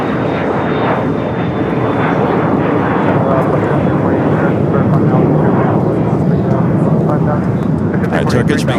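A Turkish Airlines jet taxis at LAX, turning left onto a taxiway near the Tom Bradley terminal, its engines giving a steady, close, continuous roar while people talk over it.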